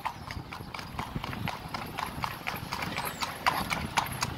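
Horse hooves clip-clop steadily on a street as the horse pulls a tour cart around Georgetown, Guyana, with an even rhythm, close and moderately loud, over faint outdoor background noise.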